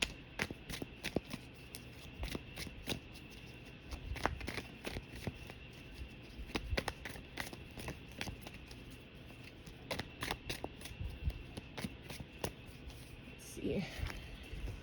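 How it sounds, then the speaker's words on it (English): Da Vinci Enigma Tarot cards are shuffled by hand in repeated riffling bursts, with crisp flicks and soft slides close up; a voice briefly speaks near the end. "Just take a few more shuffles."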